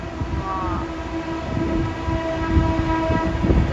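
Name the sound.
train passing by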